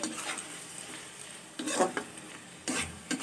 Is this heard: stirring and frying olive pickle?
yes